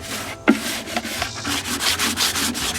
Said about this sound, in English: with me sanding it down, and you sand it away, and the base color is coming through